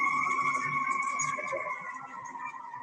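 Emergency vehicle sirens passing, steady wailing tones holding loud and fairly near before easing slightly, with muffled background noise and no clear talk.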